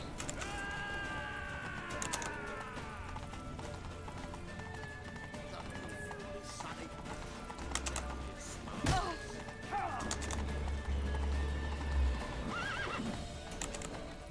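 Horse hooves clip-clop steadily through a Witcher 3 game scene with whinnies and neighs, thuds and game sounds mixed in, and players talk over it.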